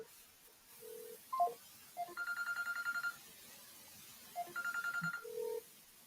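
A telephone call that fails to connect: short electronic tones followed by two bursts of warbling, trilling ring signal separated by a pause, moderately quiet and without speech.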